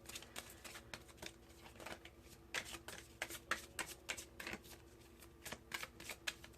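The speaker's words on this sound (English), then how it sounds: "now let's pull some oracle cards. This is Miracles Now by Gabrielle Bernstein. I'm going to take one from the top and one from the bottom." Oracle cards from the Miracles Now deck by Gabrielle Bernstein are shuffled and drawn at close range, giving a quiet, steady run of papery riffling flicks and soft slaps that continues without talk.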